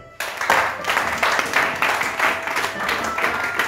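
A church congregation claps and applauds in steady bursts, a dense, lively wash of hands that starts abruptly and continues throughout.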